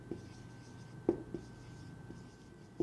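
Pen writing on paper while an accountant works through a retained earnings calculation, heard as faint, sparse scratches and small taps at low level beneath a quiet background.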